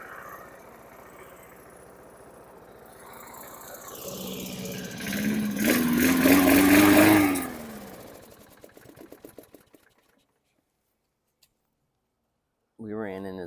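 A 2006 Troy-Bilt FWD self-propelled lawn mower engine with a sticky throttle hunts in speed, surging up to a loud, rising whine before sputtering down and falling silent, with a short burst of sound at the very end.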